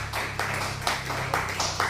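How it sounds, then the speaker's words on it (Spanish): Rhythmic clapping at a church service, several evenly spaced claps over a low steady hum, moderately quiet. "Aplauda el nombre de Jesús."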